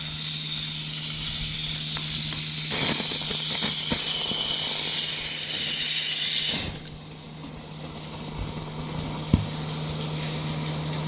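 A strong, continuous hiss comes from a blocked suction hose while a septic tank is being emptied. It cuts off sharply partway through, leaving a low background hum and a few faint knocks.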